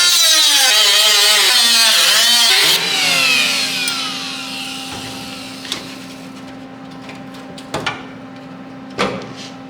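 Rusted metal being cut out of a 1957 Chevrolet inner fender with a power tool. A loud high-pitched whine with falling pitch sweeps runs for about three seconds, then eases into a steadier lower hum with a few short clunks and taps. No one speaks.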